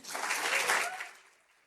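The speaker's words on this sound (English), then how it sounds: "A round of applause for those student leaders." Conference keynote audience applauds student leaders, a brief dense burst of clapping from a large crowd that swells and then fades out quickly.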